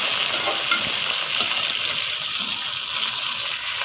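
Peeled, sliced tomatoes frying in a hot pan give a loud, dense, continuous sizzle up close, with faint scraping of a spoon now and then.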